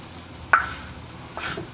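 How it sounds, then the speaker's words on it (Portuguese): A spoon scrapes and stirs feijão tropeiro in a pan with charque and farinha, giving two short, close scraping strokes about a second apart over a quiet, faintly sizzling background. "Paciência para ir mexendo."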